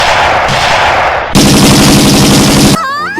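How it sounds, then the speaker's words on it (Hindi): Loud cartoon gunfire effect from a comedy animation about a fat mouse and a cat: dense rapid machine-gun bursts in two blocks, ending with a warbling tone, no talk. "लेकिन ये साले उस पे गोलियां चलाने लगते हैं।"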